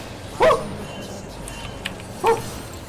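A dog gives two short, sharp yips about two seconds apart, close and fairly loud against a quiet indoor background.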